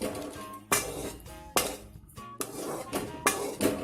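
Unsweetened mawa stirred and roasted in a pan for Sindhi majun, with sharp metallic scrapes and clinks of a spoon against the pan repeating about every second over a steady low background, close and fairly loud, with no talking.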